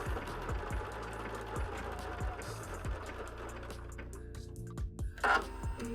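A sewing machine works a blanket stitch with a Top Stitch 90 needle, its motor whirring in a steady run of rapid repeated stitching pulses nearby, with a short pause and a brief rustle near the end.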